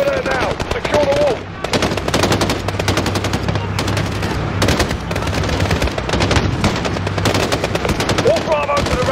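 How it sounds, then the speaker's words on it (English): Gunfire in Call of Duty Modern Warfare on Hardened difficulty, dense sustained automatic bursts with rapid cracks, loud and continuous, with faint radio-style voices in the mix. "They're taking fire from the residence."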